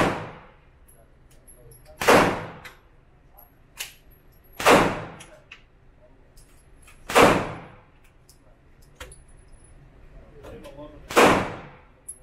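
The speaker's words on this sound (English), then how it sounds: "And we are at the gun range, at the shooting range." Gunshots at a shooting range ring out as four loud, sharp reports spaced a few seconds apart, each with a quick decay, plus a few fainter distant shots between them.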